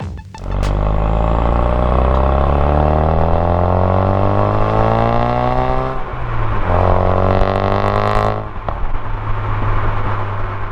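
Engine of a 2016 Ford Focus RS under acceleration, a loud steady drone with harmonics climbing through the revs, dropping briefly at a gear change around six seconds and again near eight, then pulling on.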